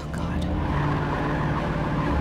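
Car engine in the video game Alan Wake revving steadily as the vehicle strains while stuck, a continuous low drone throughout with no voices.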